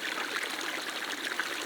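A brownish moorland stream in the Ore Mountains flows steadily with close, continuous burbling and trickling water, even and unbroken throughout, with no voices.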